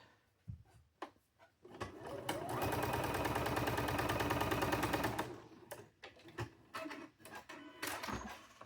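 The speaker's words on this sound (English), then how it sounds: "Now we're going to sew." Sewing machine stitching fabric for a cow-themed quilt project, a sustained, steady rapid whirring run of about three seconds, preceded and followed by short clicks and handling noises.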